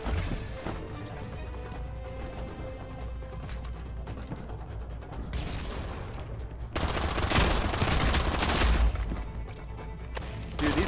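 Enemy shotgun fire in a VR shooter game, repeated blasts and bursts of gunfire with mechanical clatter over a dense noisy background, growing louder partway through.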